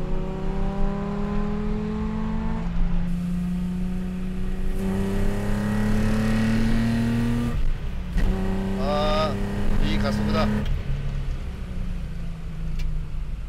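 A classic carbureted Nissan Z engine revs and accelerates through several gears, rising tones dropping at each shift, loud and close with a steady mechanical drone and no talk over it.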